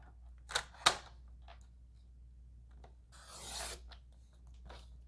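Paper card stock is trimmed for a fold card: two sharp, close snips come in quick succession, then a soft rasping slide of paper follows after a quiet pause.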